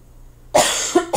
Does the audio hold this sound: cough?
yes